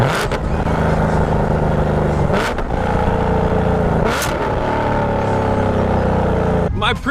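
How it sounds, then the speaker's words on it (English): A Camaro with a Corsa Extreme Plus catback exhaust revs hard several times, each blip flaring up then settling back to a loud, throaty burble, close and dominating throughout. "on my Camaro, I am rocking a Corsa Extreme Plus catback exhaust system"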